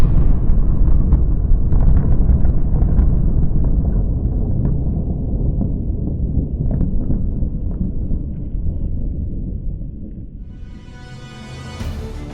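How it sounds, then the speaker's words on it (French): A deep, roaring rumble from the 49-kiloton Yuk nuclear bomb explosion fills the scene, loud and sustained, slowly fading over several seconds like the drawn-out aftermath of a massive blast. "l'île d'Aomon a failli disparaître après l'explosion de la bombe Youk de 49 kilotonnes"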